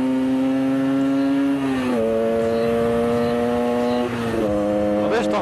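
Two-stroke moped engine droning loudly and steadily up close, with its pitch dipping and rising through shifts in speed, a rider's voice occasionally over it.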